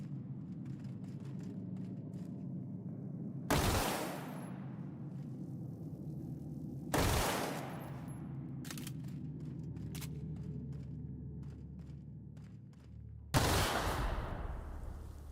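Gunfire in The Outer Worlds video game: three loud, sharp shots with booming decay spaced several seconds apart, plus a few quieter clicks and distant pops over a steady low game ambience.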